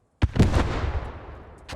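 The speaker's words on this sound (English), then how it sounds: "Because you can hear there is a cannon firing." A cannon fires in the Post Scriptum World War II shooter game: one loud, close boom with a long rolling decay, followed by another sharp report near the end, with no talking.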